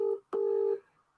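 Telephone auto-dialer tones: two clean electronic dialing beeps, a short one followed by a longer held tone, close and clear with nothing else behind them.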